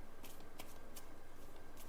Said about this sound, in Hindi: ठीक है, मैं कार्ड्स ले लेती हूँ इसको क्लैरिफाई करने के लिए।